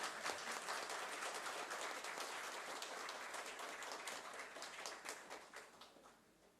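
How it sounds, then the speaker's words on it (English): An audience at a lighthouse tourism conclave in Puri, Odisha breaks into applause, a faint, distant-sounding wash of many hands clapping that holds steady before tapering off. "You can clap, I think."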